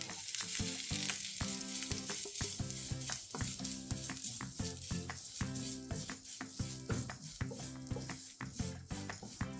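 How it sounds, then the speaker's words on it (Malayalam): Grated coconut fries with fenugreek seeds in a pan for Kerala-style sambar, giving a soft, continuous sizzle broken by repeated scraping and stirring clicks. "ബ്രൗൺ നിറമാകുന്നിടം വരെ വറുത്തെടുക്കണം."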